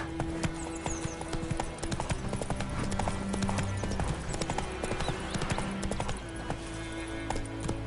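A horse gallops in The Witcher 3 video game, its hooves beating in a rapid, steady clip-clop rhythm, loud and close, with game music and effects layered underneath.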